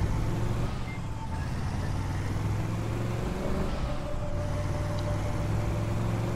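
A car drives in Just Cause 2, its engine humming steadily at moderate loudness with a brief dip in the middle.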